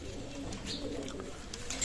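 Pigeons of a Firozpuri Kalangkar breed, kept for sale, coo steadily at close range over a low, constant background hum, with faint chirps here and there.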